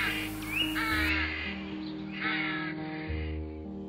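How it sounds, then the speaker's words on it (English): Rooks caw repeatedly in woodland with ancient elms, harsh calls in several overlapping bursts at moderate distance, with steady low background hum. "rooks cawed constantly in ancient elms"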